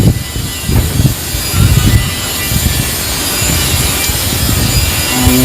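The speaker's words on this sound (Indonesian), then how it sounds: "Anginnya muter-muter guys." Strong swirling wind roars in continuous gusts under a very dark sky, a broad loud rush with low buffeting rumbles throughout.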